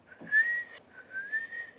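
Two sustained whistled notes in a scene from the French comedy film La Grande Vadrouille, the first rising slightly and held, the second a long steady tone after a short breath, clear and close with no talk.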